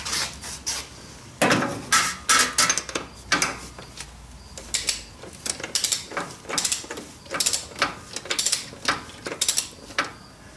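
Ratcheting a torque wrench to tighten the rear axle nut on a Harley-Davidson motorcycle wheel, a fast run of close, crisp metallic clicks in repeated bursts with brief pauses between strokes.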